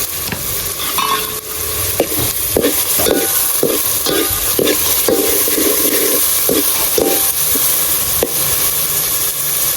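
Onions frying in hot oil with salt are stirred in a pan, a steady loud sizzle broken by repeated scraping spoon strokes in an uneven rhythm, with no talking.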